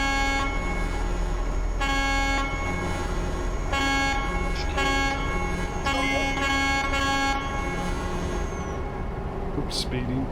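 Truck-mounted train horns blare repeatedly in the Euro Truck Simulator 2 driving game, several sustained honks in blasts with short gaps, over steady engine hum while someone talks.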